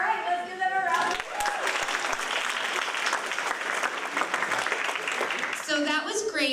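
An audience at a school event applauds steadily for several seconds, a dense sustained clapping that starts right after a voice and fades as talking resumes at the end.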